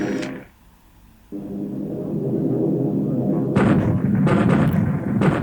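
Airstrike explosions from the War in the Pacific wargame boom and rumble one after another, loud and sustained, with a brief lull near the start and layered blasts swelling toward the end.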